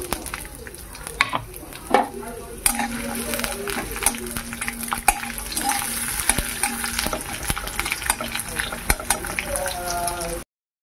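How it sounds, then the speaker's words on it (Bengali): Garlic, black cumin, onion and green chili frying in hot mustard oil, a steady close sizzle with clattering stirring knocks, while someone speaks over it. "আর আমি দিয়ে দিচ্ছি তেলের মধ্যে রসুন, কালো জিরে, পেঁয়াজ আর কাঁচা লঙ্কা। এগুলো আমি ভেজে নেব।"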